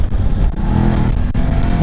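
A BMW F 750 GS motorcycle engine revs up on a test ride, a loud, close, rising mechanical roar that wavers briefly before building again.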